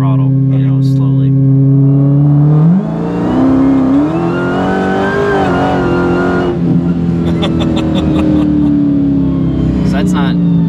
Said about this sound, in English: I'll just kind of roll into the throttle, you know, slowly.